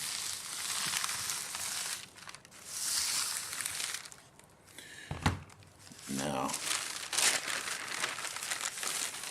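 Layers of plastic bag crinkle and crackle under a household iron on medium heat being pressed to fuse them, with irregular rustling bursts and brief pauses at moderate loudness.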